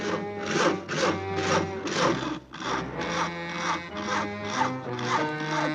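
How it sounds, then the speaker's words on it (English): Rhythmic rasping saw strokes, a steady back-and-forth cutting through wood, with music playing underneath. "Isn't that your house Harry is sawing on?"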